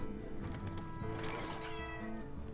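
A loud, close cat meow stretches across a dense, steady wash of background sound, drawn out and slightly wailing, with no speech.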